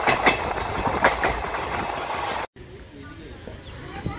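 The Silchar Express rattles through a village in Assam just past a station, a loud, continuous clatter of wheels and carriages. After a short break, a quieter stretch of rolling rail noise follows.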